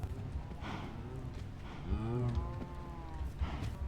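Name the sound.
cows mooing in Minecraft video game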